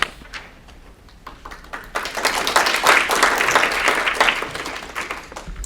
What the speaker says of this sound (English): you definitely don't need to clap for me